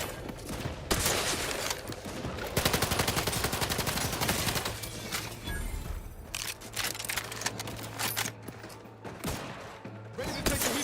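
Rapid bursts of gunfire crackle through a firefight in The Outer Worlds 2, dense volleys and machine-gun-like rattles repeating across the whole stretch, loud and close with a low sustained hum underneath.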